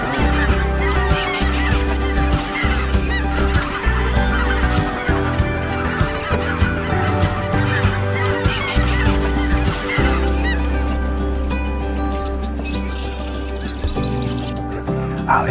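Geese honk loudly and repeatedly at a wetlands wildlife area in Gridley, California, a dense overlapping chorus of calls from fowl close by that continues through the whole stretch without talk.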